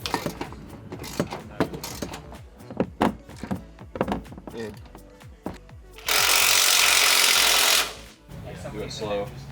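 Lower control arm nuts are tightened on a 2023 Nissan Frontier Pro-4X, with a series of ratcheting clicks and clunks followed by a steady two-second power tool whir, close by, under intermittent talk.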